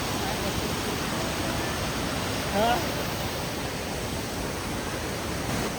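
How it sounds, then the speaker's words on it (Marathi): Waterfalls and a river near Jawhar roar in a steady, dense wash of rushing water, loud and constant throughout, with a brief faint sound rising over it midway. "हा एक वॉटरफॉल आणि ते दोन वॉटरफॉल आणि ही नदी"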